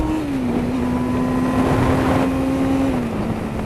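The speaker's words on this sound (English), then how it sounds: "Oh, the bike ain't pulling that well." Motorcycle riding at the national speed limit, with the rider noting it isn't pulling well: a steady, loud engine drone with a slowly shifting low tone, under heavy wind rush and no talk.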